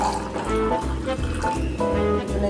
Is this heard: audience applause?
no